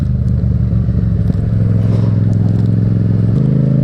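A 2021 Yamaha MT-07 motorcycle fitted with an aftermarket Akrapovic exhaust with no baffle, loud and close, its engine burbling and crackling at a rough, pulsing idle with a slight rise in pitch partway through.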